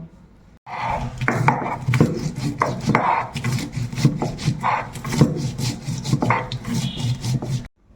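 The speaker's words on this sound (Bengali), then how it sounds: "পোস্তটা আমি দিয়ে শিলনোড়াতে খুব ভালোভাবে এবার বেটে নেব।" Poppy seeds being ground on a flat stone shil-nora, a continuous close rhythmic rasp of the stone muller rubbing back and forth for several seconds before stopping abruptly.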